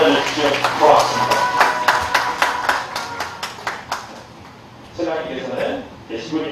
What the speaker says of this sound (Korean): 큰 박수로 받아주십시오.